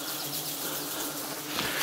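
Bees swarm with a dense, continuous buzzing drone, close and steady throughout with no voices.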